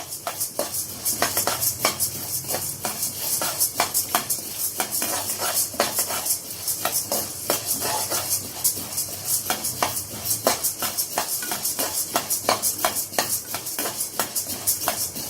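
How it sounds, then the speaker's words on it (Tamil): About 200 grams of chana dal dry-roasting in a pan, a spoon scraping and stirring steadily with quick rhythmic metallic clinks and a faint sizzle, close and continuous with no talking. "நம்ம ஒரு இரநூறு கிராம் கடலப்பருப்பு வறுத்து எடுத்துக்கலாம்"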